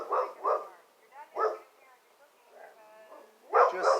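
A dog barks repeatedly nearby in short bursts at an uneven rhythm, with some quieter whimpering between the barks, inside a house.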